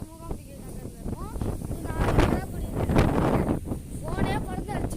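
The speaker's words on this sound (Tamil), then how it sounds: "அந்த மாதிரி வெதர், புயல் காத்துற மாதிரி அடிக்குது" Strong stormy wind gusting across a phone microphone in Mooambigai Nagar, Kudanchery, with loud steady rumbling buffeting throughout and a person talking over it.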